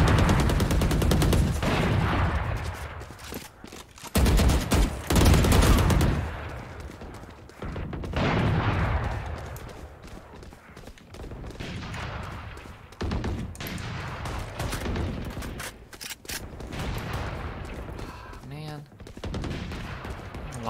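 Valorant gunfire on the Ascent map, played as Sage: repeated sharp bursts and rapid volleys, loud and close, with brief lulls and game noise between the shots.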